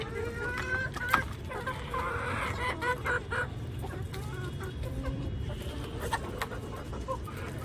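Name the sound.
chickens clucking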